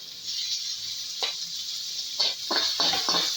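Onions and chopped tomatoes sauté in a hot pan for a ridge gourd stir-fry, giving a steady close sizzle broken by a few short scraping stirs of a spatula.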